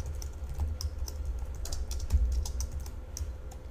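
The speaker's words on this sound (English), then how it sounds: "now I can continue typing and I don't have to ever touch the mouse" Steady typing on a computer keyboard while writing code, a quick continuous patter of key clicks over a low background hum, close and moderately loud, with no talk.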